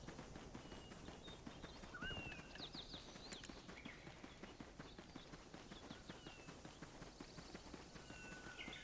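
Horse hooves in the video game Black Desert Online, a steady, quick clip-clop of galloping close by, faint overall, with a few soft chirping game effects and no talk over it.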